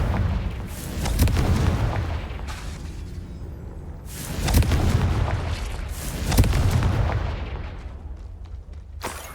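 In the Hogwarts Legacy video game, a Confringo blasting spell sets off a run of loud, booming explosions, about four heavy blasts spaced through the stretch, each trailing into a rumbling decay.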